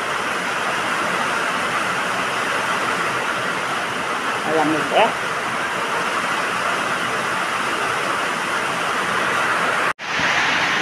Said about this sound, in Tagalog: Patuloy pa rin po ang mga pag-ulan. At yan po, ang lakas na naman ng tubig.